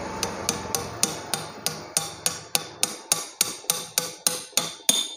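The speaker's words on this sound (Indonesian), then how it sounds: "pakai alat, ya, palu dulu." A hammer taps parts during the repair of a leaking Apollo PCP air rifle, a steady series of about fifteen sharp, evenly spaced metallic knocks, close and clear with no talking.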